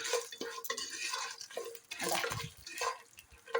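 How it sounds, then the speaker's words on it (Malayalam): Sugar being stirred in a pan while it browns for Kerala palada payasam, giving soft irregular scraping and clinks of a spoon against metal, close and fairly quiet. "അതൊന്ന് നമുക്കൊരു ചെറിയ ബ്രൗൺ കളർ ആവുന്നിടം വരെ ഒന്ന് ഇളക്കി കൊടുക്കാം."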